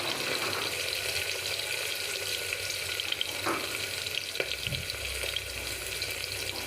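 Onion, chili and cumin tempering with curry leaves sizzles steadily in a pan as tomatoes go in for spinach and moong dal khichdi, a continuous close frying hiss with a few soft stirring clatters and no talk.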